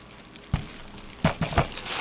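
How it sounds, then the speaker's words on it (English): Several short crinkles of plastic wrap come in quick bursts, soft and close, against a quiet background with no speech. "This plastic is not quite as noisy."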